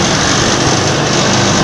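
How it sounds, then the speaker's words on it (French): A power sander grinds rust off metal with a loud, steady, unbroken whir that holds the same harsh pitch throughout. "je mets ici à la ponceuse"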